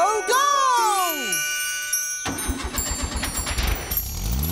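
A cartoon car in Ben and Holly's Little Kingdom starts with magical whooshing swoops and tinkling sparkles, then its engine sputters and runs with a steady putter that rises near the end, loud and close, with no talk.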